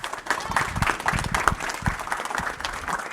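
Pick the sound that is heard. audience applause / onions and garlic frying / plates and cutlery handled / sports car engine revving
audience applause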